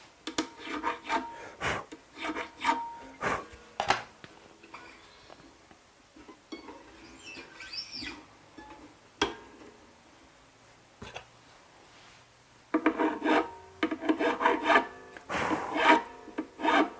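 A guitar nut slot being cleaned with a nut file, heard as close, rapid rasping strokes in short bursts with pauses between, quiet overall and without talk.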